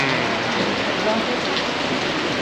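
Steady rain patters densely on a surface during a wedding in the Andaman Islands, a constant hissing wash with no pauses.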